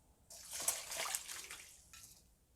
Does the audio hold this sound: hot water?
yes